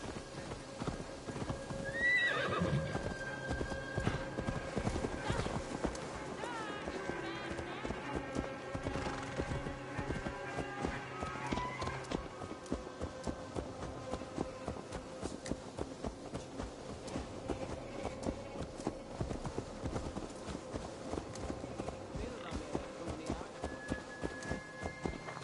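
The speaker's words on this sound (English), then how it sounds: "Let's return the horse." A horse gallops with rapid, continuous hoofbeats and neighs early on while ridden in Assassin's Creed Valhalla, steady and close throughout under a layer of game ambience.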